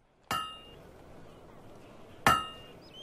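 Two ringing metallic hammer strikes on metal, about two seconds apart, from a blacksmith at work in Fable II, each with a bright clang that decays slowly over a quiet background.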